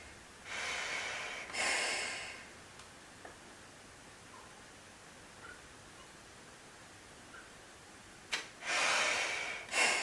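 Breathing through a Finnish M61 gas mask during a seal check: a few loud, hissing inhalations drawn through the mask, separated by quiet stretches, close and alone.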